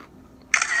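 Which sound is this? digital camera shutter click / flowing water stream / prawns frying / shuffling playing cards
digital camera shutter click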